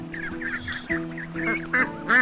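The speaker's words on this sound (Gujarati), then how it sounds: "તળાવમાં કેટલાક બતકોનું જૂથ રહેતું હતું" Several ducks quack back and forth in short bursts, fairly close, with one growing louder toward the end.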